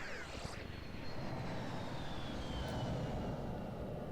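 A jet flies past in a Pokémon video game, a steady broadband roar with a faint whine sliding slowly downward as it passes, filling the whole moment at an even level.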